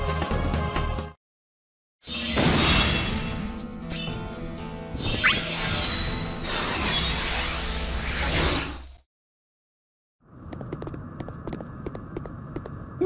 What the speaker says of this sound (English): What a smashing display! A good demolition is so moving